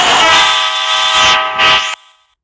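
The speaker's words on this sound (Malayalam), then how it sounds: "ട്രെയിനിൻ്റെ ഹോണൊന്നും കേൾപ്പിച്ചില്ല" A loud, sustained train horn from the Indian Bikes Driving 3D video game blares in a single long chord with slight pulses, then cuts off sharply.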